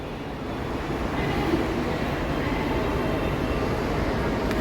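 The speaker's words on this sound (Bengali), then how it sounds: "এটা হচ্ছে পুরো চেন্নাই সেন্ট্রাল রেলওয়ে স্টেশন" Steady broadband rumble of trains and station bustle inside Chennai Central railway station, continuous and fairly loud throughout with no distinct voices standing out.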